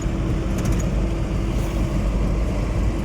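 A four-wheeled car being driven gives a steady, loud engine and road rumble that holds without a break, with no voices.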